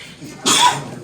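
A single short, breathy sneeze-like burst close by against a faint background hum.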